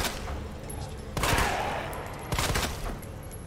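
Bursts of gunfire from a video game, Resident Evil 2 in the Leon route, with two louder volleys standing out over a steady game soundscape.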